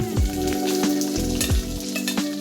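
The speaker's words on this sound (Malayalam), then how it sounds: "സവാള ഇട്ട് കൊടുക്കാം." Sliced onion dropped into hot oil already holding fennel and cardamom, bursting into a loud, close sizzle, with a few metallic spoon taps and stirring scrapes as the frying continues.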